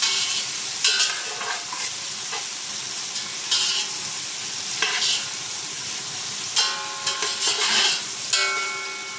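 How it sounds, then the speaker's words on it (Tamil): Onions sauté in a pan for channa masala, a steady close sizzle with repeated scraping stirs and light clinks of the spoon against the pan, no voices. "வெங்காயம் வந்து நல்லா கோல்டன் கலர் ஆகும், அந்த அளவுக்கு நல்லா வதக்கிடலாம்."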